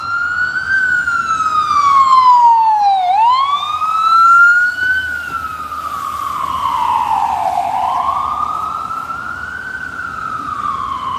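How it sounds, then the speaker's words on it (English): A rescue squad emergency vehicle siren on a New York City street wails loud and close, sweeping down and back up in long, slow cycles over the low rumble of traffic. "I figured you'll hear a lot of those sirens"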